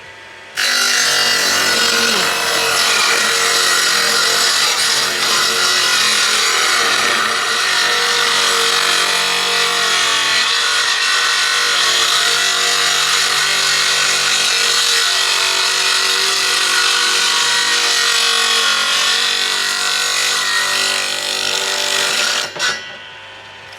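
A power saw cuts steadily through wood while an aviary is being built, a loud continuous grinding whine that runs unbroken for over twenty seconds before stopping abruptly near the end.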